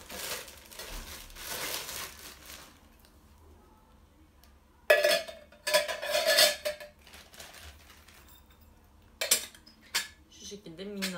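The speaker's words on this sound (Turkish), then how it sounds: "Şöyle minnak bir çaydanlık. Demliğimiz küçücük." Light metallic clatter of a small teapot and kettle parts being handled, in short bursts with quiet pauses between, close by.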